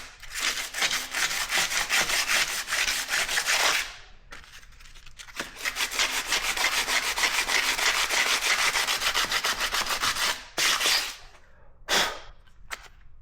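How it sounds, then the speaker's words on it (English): Sandpaper is rubbed over a Harley chopper frame to strip its paint, making loud, rapid scratchy back-and-forth strokes in long bursts with brief pauses between them. "I hit with some sandpaper to get the paint off of it"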